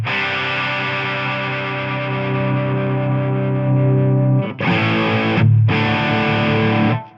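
Distorted electric guitar through a Tonex pedal with a low shelf EQ cut thinning the tone: a sustained chord rings, then two loud choppy strums with a brief gap, no talking.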